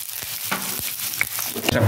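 A soft sizzle of sliced onions frying in hot oil, with a few faint clinks and scrapes over a steady hiss.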